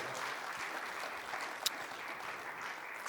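Steady round of applause from a conference audience honouring a minister, a dense even patter of many hands at moderate distance.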